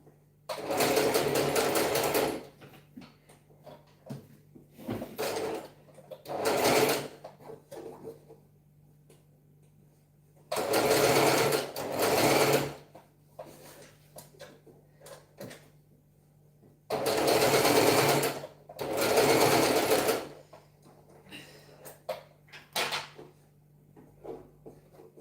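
A sewing machine stitches fabric in short loud bursts of a few seconds each, separated by pauses with soft handling clicks, without talk.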